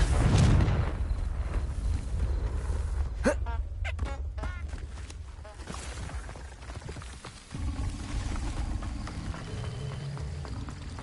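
Incendio and Confringo spell blasts in the Hogwarts Legacy video game crackle and boom amid busy game sounds, with a sharp burst, rapid fizzing crackles, and a deeper rumbling impact, loud and close.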